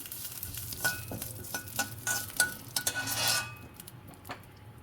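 Vermicelli frying and being stirred in a pan for a Bengali sweet dish, with repeated scraping and clinking of a utensil against the metal over a soft sizzle, close and moderately loud, with no talk.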